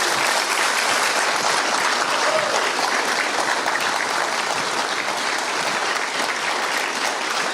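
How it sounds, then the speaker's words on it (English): Sustained, loud applause fills a hall at an accordion band's 75th anniversary event, a thick, even roar of many hands clapping at full strength throughout. "And I think we'd give Andrew a big round of applause."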